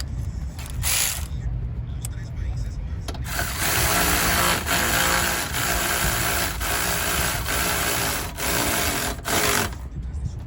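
An impact gun drives sockets while a radiator is being replaced on a 2011-2014 Jeep Grand Cherokee 3.6L, giving loud rattling bursts of hammering interrupted by short pauses, close to the listener.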